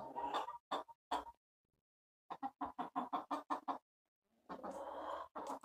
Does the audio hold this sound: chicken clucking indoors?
yes